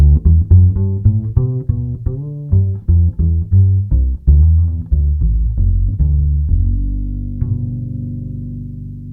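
A plucked double bass through a Headway EDB-2 preamp plays a walking line of distinct notes with heavy, boosted low end, ending on a sustained ringing note.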